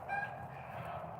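A rooster crows and clucks at dusk while a hen that acts like a goose lingers outside at bedtime; short repeated calls sit over a low murmur of farmyard fowl, close and moderately loud.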